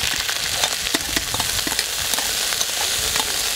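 Sauce goes over teriyaki chicken thighs browning in hot fat in a kazan, setting off a steady, loud, close sizzle and crackle with scattered pops throughout.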